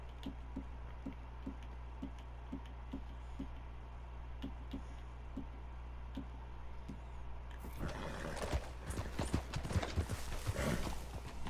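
Horse hooves clip-clop steadily at a walking pace in the Red Dead video game, a regular run of hoof beats over a low rumble before the scene turns busier and louder with a burst of mixed noise near the end.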